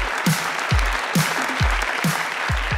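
Studio audience applauding for guests arriving on a Persian-language entertainment show, steady clapping with rhythmic low thumps recurring beneath the crowd noise, loud and continuous with no talk.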